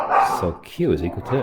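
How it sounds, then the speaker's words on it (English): Dogs fighting, heard as yips and barks behind a man's nearby speech. Most of the dog sound is masked by his voice. "If you can hear the dogs fighting in the background, that's because they are."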